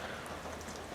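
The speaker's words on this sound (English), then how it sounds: "But as you can see, it's raining." Rain falls outside a workshop, a brief, steady, moderately loud patter and hiss holding evenly throughout with no voices.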